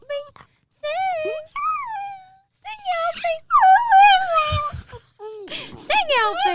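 A dog howls in a podcast studio in a series of drawn-out, wavering wails, broken by pauses, with a person's voice mixed in among the howls.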